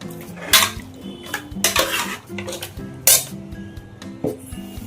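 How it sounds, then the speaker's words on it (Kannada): Chicken gravy frying in a pan while a metal spoon stirs and scrapes it. Loud, close clanks and clinks come in irregular bursts over a faint sizzle. "ಸ್ವಲ್ಪ ಫ್ರೈ ಆಗಲಿ ಚೆನ್ನಾಗಿ ಫ್ರೈ ಮಾಡ್ಕೊಂಡು"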